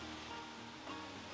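Rushing water from a waterfall among rock work in a zoo bonobo exhibit, a steady broadband wash that stays constant and fairly loud throughout, with no speech.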